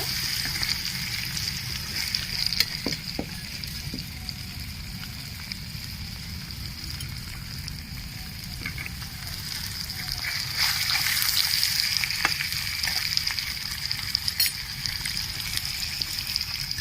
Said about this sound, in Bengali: হালকা লাল করে ভেজে নেব